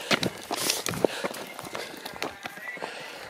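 Running footsteps on a mountain climb up Mont Ventoux, quick irregular foot strikes on the road, fairly close, mixed with breathing and some voice activity.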